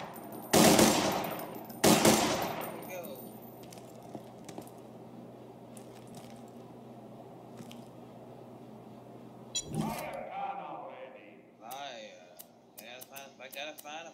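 Two sharp, loud bursts of fire-weapon gunfire ring out close in Borderlands 2, followed by a low game hum, another shot and scattered metallic clicks and beeps, with a voice talking in between.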